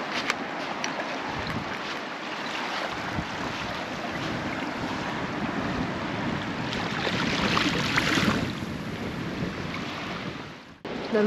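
Strong wind roars steadily against the microphone, with a broad rush of sea and surf beneath it on the Galician coast and no voices.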